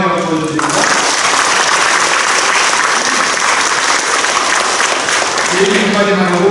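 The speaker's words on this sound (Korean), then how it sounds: "하나님께 영광의 박수 올려드립니다" A church congregation at a Korean anniversary and ordination thanksgiving service breaks into loud, sustained clapping, a dense wash of hands that rises right after a spoken line and fades as speech resumes near the end.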